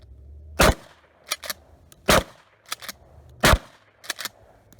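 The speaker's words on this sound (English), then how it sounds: "At about 10 or 11 yards now, shoot the TV and then shoot some steel." A Mossberg 590M shotgun fires double-aught buckshot at a TV and steel targets from about 10 or 11 yards: three loud, sharp blasts a second or so apart, each followed by quick, bright metallic pings from the steel.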